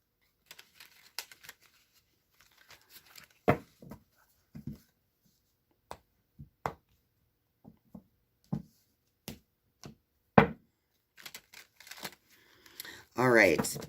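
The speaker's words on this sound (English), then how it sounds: "So I just want to shuffle these into 3 piles really" A large deck of tarot cards is split into three piles, giving scattered quiet card slaps, riffles and taps with short gaps between them, then a brief burst of louder shuffling at the end.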